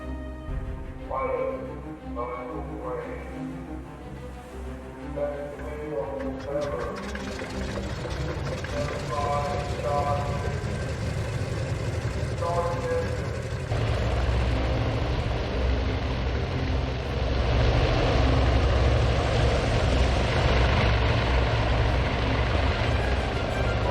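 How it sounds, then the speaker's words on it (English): Wildcat fighter planes launch from an aircraft carrier deck in the naval video game Task Force Admiral, with a rising engine drone that swells into a loud, steady roar, alongside music and talking. "The time has come for our Wildcats to launch."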